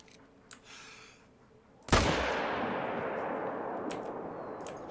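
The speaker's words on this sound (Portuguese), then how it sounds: "Agora que eu dei o tiro, fez barulho." A single loud rifle gunshot in the hunting video game theHunter: Call of the Wild cracks out, its sharp report followed by a long, decaying reverberant tail that fills the rest of the clip; faint ambience before it.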